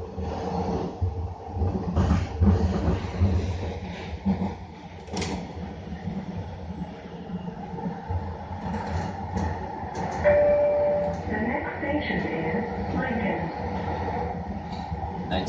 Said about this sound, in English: This is all during Skytrain's trial running of the line, testing it out with automated trains